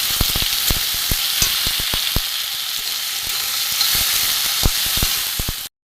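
Potatoes frying in a pan for a vegetarian chickpea ghugni, a close, steady sizzling hiss broken by sharp spoon clicks against the pan, then cutting off abruptly.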